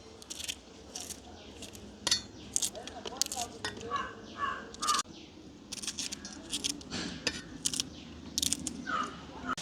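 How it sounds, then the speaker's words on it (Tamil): Green chillies being sliced with a knife in a village kitchen, giving a run of quick, irregular crisp cuts and taps close by, with faint background activity throughout. "இப்படியே எல்லா பச்சை மிளகாயும் வெட்டி எடுப்பேன்"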